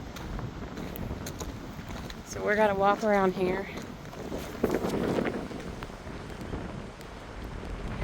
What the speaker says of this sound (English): It's a little windy out here, so it's going to be loud.